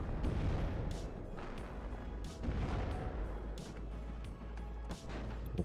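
Artillery fire in the real-time strategy game WARNO: a barrage of deep, rumbling booms and impacts rolling one after another at a fairly even pace, with no voices.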